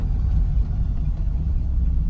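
Steady low engine rumble from a 1972 Lancia Fulvia Series 2 running while driving, a continuous close drone with no talk over it.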